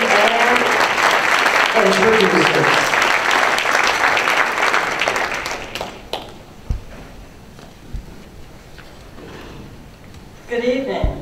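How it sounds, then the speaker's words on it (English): An audience applauds Hall of Fame inductees at the Atlanta Press Club induction ceremony, a loud, full round of clapping that fades after about six seconds, leaving scattered claps, room noise and a voice speaking. "Let's give another round of applause to all of our Hall of Fame inductees"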